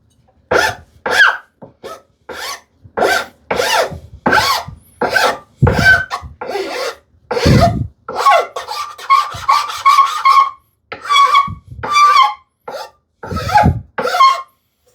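Hand file rasping on wood during a shoe tidy woodworking project, a steady run of short scraping strokes, close and fairly loud, with quicker rapid strokes in the middle and no talk.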